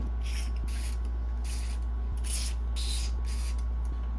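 Grease sprayed from a can onto an old Westinghouse desk fan: a series of short, bright hissing bursts, about six of them, repeated over a steady low electrical hum.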